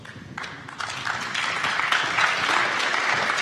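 Conference audience at a business round-table gives dense, building applause that grows louder after a brief softer start and holds steady to the end.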